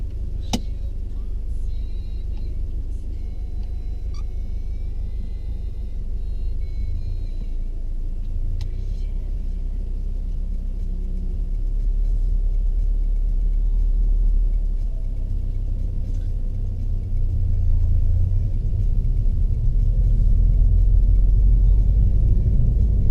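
Car on a driving lesson in Derby, a steady low engine rumble from inside the cabin that swells slightly as it pulls away, no talk.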